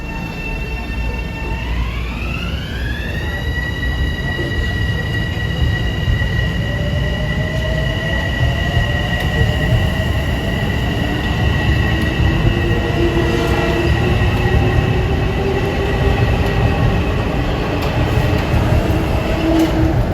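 A Metro-North commuter train rolls past on heavy rail at Harlem 125th Street, a loud steady rumble of wheels with rising tonal whine and squeal near the start, continuous and close throughout.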